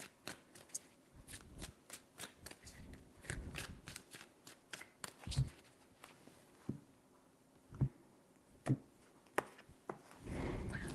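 Tarot cards shuffled by hand, a close series of quick riffling bursts and sharp taps repeated over several seconds, fairly quiet with no talking.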